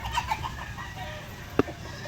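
Shamo chickens on a farm make a few faint, scattered clucks, with one short sharper call near the end, over quiet background ambience.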